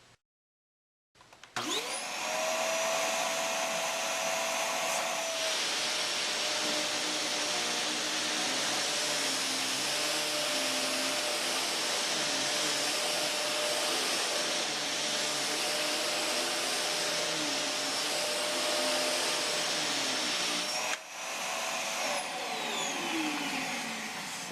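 An LG Kompressor LuV250C upright vacuum cleaner runs with a loud, steady roaring drone for over twenty seconds. Its tone shifts slightly a few seconds in and again near the end, with no talking over it.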